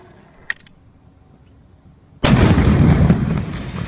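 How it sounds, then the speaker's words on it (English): A loud explosion set off by pushing the lever of a dynamo detonator bursts out abruptly after a quiet stretch with a faint click, then rumbles on heavily with debris-like noise. "when you push this lever, it generates current and then it triggers the explosion"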